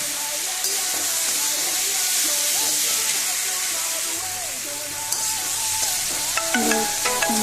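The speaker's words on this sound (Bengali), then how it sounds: "এবার পনির ভাজা রেখেছিল যে সেগুলো দিয়ে দিল।" Fried paneer pieces tipped into a pan of sizzling masala, a steady close hiss and crackle of frying with stirring clatter, some faint voice in the background.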